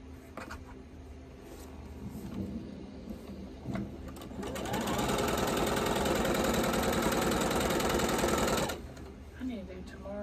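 A sewing machine stitches quilt squares in a long, loud, steady whirring run of several seconds, preceded and followed by quieter handling clatter and room noise.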